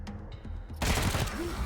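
Gunfire in the game Wasteland 3: after quieter game sounds, a sudden loud volley of shots breaks in partway through and keeps going as a dense, rapid burst until the end.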